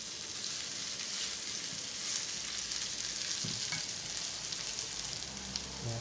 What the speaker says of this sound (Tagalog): kunting gisa lang yan